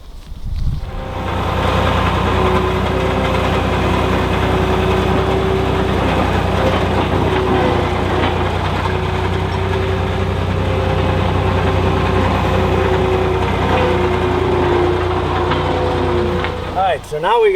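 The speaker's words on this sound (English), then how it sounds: "I'm going to go fire up that skid steer and get to work" A skid steer's diesel engine runs at a steady idle for most of the passage, a continuous low rumble with a few brief knocks near the end, heard outdoors on an overgrown property.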